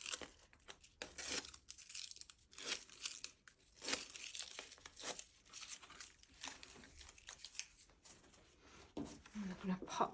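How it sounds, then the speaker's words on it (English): Adhesive backing strips being peeled off card layers for a handmade wedding card, giving repeated crinkly tearing and rustling bursts at close range, with a person talking over much of it. "So we'll pop that onto our card and we'll peel the backs off."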